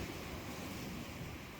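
Sea waves wash onto the shore in the evening at the top of the tide. A soft, continuous surf hiss mixes with light wind noise, faint and steady.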